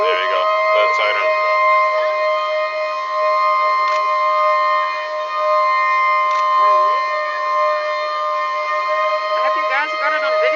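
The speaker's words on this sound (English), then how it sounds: "And there you go. Third siren." At a Cape Town building demolition on Bree Street, a loud warning siren holds a continuous tone with occasional sweeping wails, sounding throughout under scattered nearby voices.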